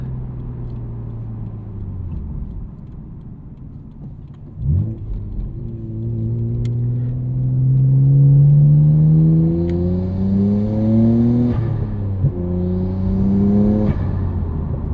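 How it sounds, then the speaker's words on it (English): A 1999 Nissan Skyline R34 GT-R twin turbo driving with the windows up, its engine intake droning through a gear shift and then rising steadily as it accelerates, heard from inside the cabin. "Hear that intake a little bit better with the windows up."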